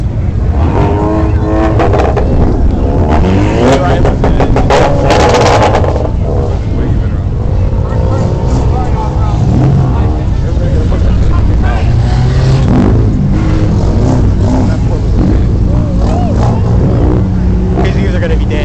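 At a car meet, a loud truck engine revs and roars up and down close by, with crowd chatter and shouting voices mixed in.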